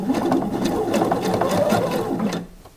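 A sewing machine runs steadily while stitching a blouse seam at a stitch length of 3, a loud, close, rapid mechanical whir and needle chatter for a couple of seconds before cutting off.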